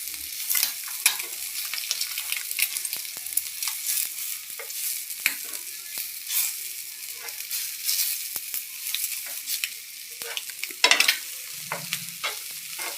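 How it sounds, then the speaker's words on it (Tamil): Eggs frying in a pan, three of them, with a steady crackling sizzle and frequent spatula scrapes and taps, louder rattling near the end, and no speech. "முட்டையை வந்து மூடி போட்டு தான் வறுக்கணும்."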